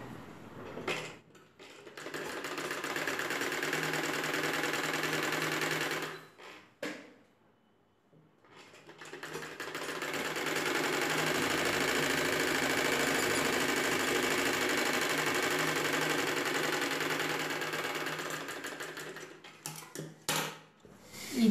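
Sewing machine stitching umbrella canopy cloth, running in two long, steady stretches of fast mechanical whirring with a brief stop between them, close and moderately loud with no talking.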